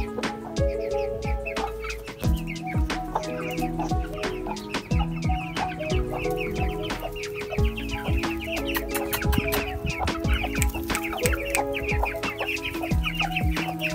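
Chickens cluck and squawk continuously at a home's night coop, a dense flock close by with overlapping calls and occasional sharper cries throughout, no talk.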